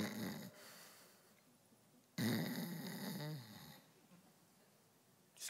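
A man imitates snoring with his voice, making a rough, drawn-out snorting breath, pausing, then another longer gravelly snore, fairly quiet and close.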